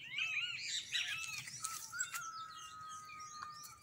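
Sabiá thrushes call in a home garden near their nest, with a lively burst of overlapping chirps and whistles early on that thins to scattered, fainter notes, fairly quiet and distant, with no talking.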